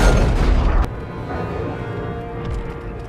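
A rocket detonates against a robot in the animated Transformers film Bumblebee, producing a loud booming blast that cuts off sharply into a lower rumbling aftermath with a faint hum.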